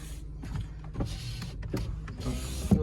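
Electric power windows of a Volkswagen Golf 4 1.6 whir up and down in a few short motor runs, a steady mechanical hum with brief pauses and a soft thunk at the end.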